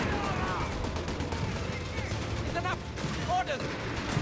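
Artillery from a Bishop 25-pounder carrier in Company of Heroes 3 thuds a few times as distant booms over a constant low battle rumble, with a voice talking throughout.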